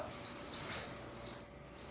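Strawberry finches in an aviary give a few short, high chirps, followed by a longer thin whistled note, close and clear against a quiet background.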